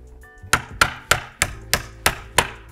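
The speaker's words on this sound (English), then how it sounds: "we're gonna take the nail and hammer it all the way through these ones here" Hammer blows drive a nail through BRIO Builder toy construction pieces, eight sharp, evenly spaced knocks sounding up close with no talk.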